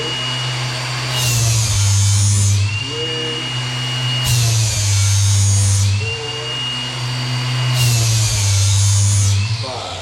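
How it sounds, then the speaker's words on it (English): An angle grinder sharpens a lawn mower blade in a steady series of passes, its loud whine rising and falling as the disc grinds along the metal, with a person talking quietly under it. "So just be really, really careful when you're putting the grinder down there that it stops."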